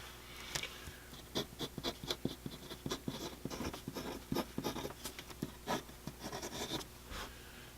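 A Hero 616 fountain pen nib scratches out short lines on paper with quick, close, quiet strokes in an uneven rhythm. Nobody speaks over it.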